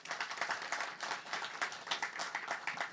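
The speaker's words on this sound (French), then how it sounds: "On l'applaudit, s'il vous plaît." An audience at a launch event gives a short round of applause, a modest group clapping in quick irregular bursts, fairly faint and steady for a few seconds.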